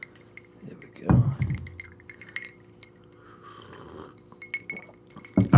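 Ice cubes clink and tumble into a glass of water, a short burst of bright clattering near the start and again at the very end, with quiet room sound and faint shuffling in between.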